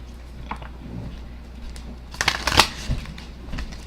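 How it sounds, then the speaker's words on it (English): Oracle cards being shuffled close up, a soft papery riffle with scattered light taps that swells into a louder burst of card flutter and snaps near the end, alone over a low steady background hum. "So tonight we're going to shuffle some oracle cards."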